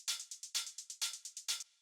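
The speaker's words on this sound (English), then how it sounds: "The first thing we have on here is a reverb" A techno drum loop with a subtle short-decay reverb, built on four punchy kicks and busy crisp hi-hat or percussion hits between them, tight and dry-sounding with a brief tail at the end.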